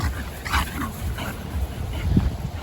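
Dogs at a dog park make soft whimpers and yips amid broad outdoor noise, with no clear barking.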